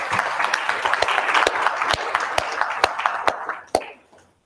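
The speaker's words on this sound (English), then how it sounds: "stand and applaud the high school for all their achievements" An audience at a high school board meeting applauding, a steady patter of many hands clapping in a room, moderately loud, thinning out and stopping after a few seconds.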